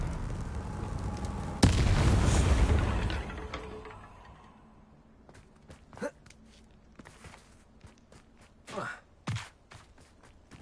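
An Expelliarmus spell cast in the video game Hogwarts Legacy hits with a sudden loud booming blast that rumbles and fades over a couple of seconds, followed by quieter clicks, steps and scattered speech.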